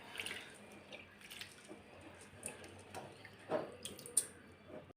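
Soaked moong dal being washed in a bowl of water for an instant dosa batter: soft, faint splashing and trickling of water with small sloshes and a few brighter drips, quiet and close, with no voices.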